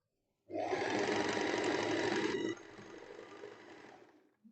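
A coverstitch sewing machine runs over knit fabric in a fast, even mechanical rattle for about two seconds, then slows to a softer, lighter whir before stopping, close by and with no talking.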